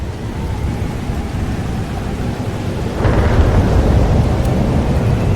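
Thunderstorm in the game Life is Strange: Double Exposure, with steady rain and low rumbling thunder that swells louder partway through and keeps rolling, no voices.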